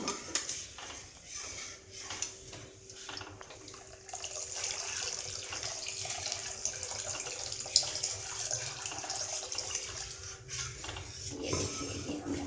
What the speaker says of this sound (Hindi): ये देखिए, ये हमने पानी डाला।